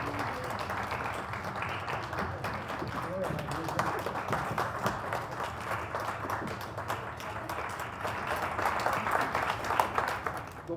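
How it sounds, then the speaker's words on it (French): An audience applauds a pianist and a cellist at a live chamber concert, many individual claps rattling quickly and unevenly, building slightly toward the end. "Je demande de les applaudir."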